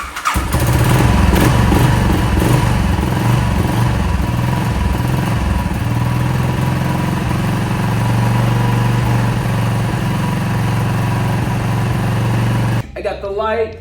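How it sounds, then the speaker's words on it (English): A Royal Enfield Classic Bullet 500 motorcycle engine runs loud and close with a steady, thumping idle for over twelve seconds, then cuts off abruptly near the end; a voice may be heard briefly over it. "I think we gotta wait till the bike's on for it to actually to run"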